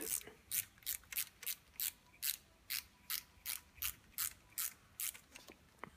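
Ratcheting Allen key driving a 4mm hex bolt while fitting a smaller Kalkhoff e-bike console; about fourteen steady, evenly spaced rasping clicks in a regular rhythm, close and moderately loud, with no voices.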